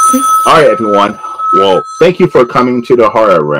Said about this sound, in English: that's my phone going off, which sometimes happens during interviews